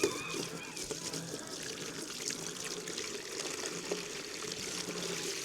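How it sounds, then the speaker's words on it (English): Water poured from a jug into a poultry waterer in a winter chicken yard, a steady splashing trickle over constant outdoor background noise, with faint bird sounds around. "And we'll give them some water in here."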